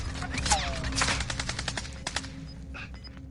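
Rapid automatic gunfire from Call of Duty Warzone crackles in dense, overlapping bursts, loud and close, with a few sharper single shots and brief electronic tones near the end.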